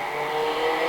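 Pro stock race car with a blown exhaust on an oval circuit, a loud, continuous rough and raspy engine drone held steady over a short burst.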